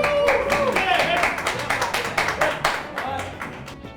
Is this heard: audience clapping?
yes